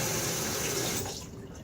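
Cool tap water runs steadily from a faucet into a sink in winter, a broad continuous rush that fades and thins toward the end.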